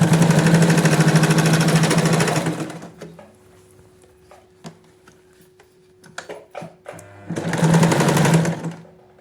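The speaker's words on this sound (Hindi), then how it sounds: "अब ये वाली सिलाई हम पूरी नीचे तक लेकर आएंगे।" A sewing machine stitches a seam on a pair of girls' shorts in two loud, steady runs of rapid whirring, with a stretch of quiet fabric handling and small clicks in between.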